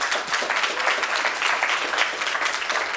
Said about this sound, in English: Give yourselves I want to hear big applause.